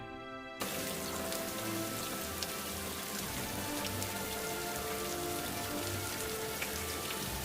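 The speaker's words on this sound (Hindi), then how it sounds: "अरे शंभू देखो, हमारा तालाब कैसे है? बारिश के पानी से भर गया है" Steady rain falls on a surface, a dense even patter with occasional louder drops, continuous and close throughout.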